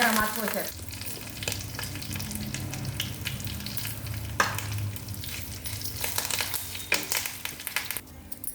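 Curry leaves dropped into a hot tempering of chilies, garlic, cumin and mustard seeds, crackling and sizzling steadily and close, with intermittent spatula scrapes and stirring.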